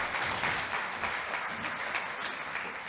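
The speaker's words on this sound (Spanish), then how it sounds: "yo pediría un aplauso, ahora sí, para el doctor Raúl Martínez Fernández" An audience at a Parkinson's disease conference applauds a neurologist, a steady, even wash of many hands clapping together that stays continuous and fairly soft, heard from within the hall.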